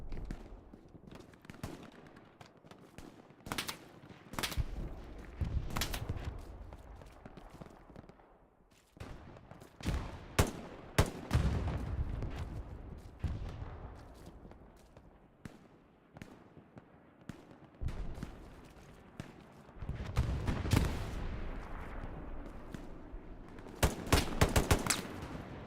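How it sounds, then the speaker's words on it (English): Gunfire from the online shooter Hell Let Loose, fought around the Carentan train station, crackles in repeated bursts and scattered single shots. The volleys come both near and distant, and the rattle continues throughout. "So many shots"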